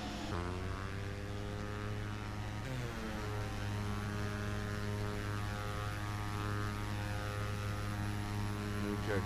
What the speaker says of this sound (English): this is a turboprop or turbine propeller aircraft